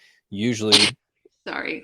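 A single short human sneeze close to the microphone, followed by a brief spoken apology.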